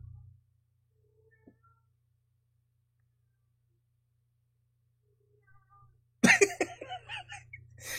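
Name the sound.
cats meowing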